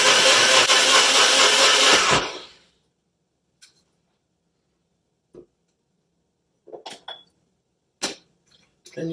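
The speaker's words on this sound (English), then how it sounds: "Then you blend on high for 30 seconds." A kitchen blender whirs on high, mixing berry gin lime cordial, a loud steady motor drone that cuts off after about two seconds, followed by quiet with a few scattered clicks and knocks.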